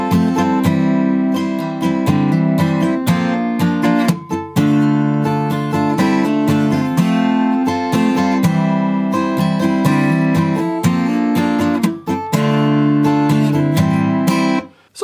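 Guitar chords strummed steadily for the verse of a song from The Walking Dead, in a continuous rhythmic pattern, full and close, with brief pauses between phrases and no singing.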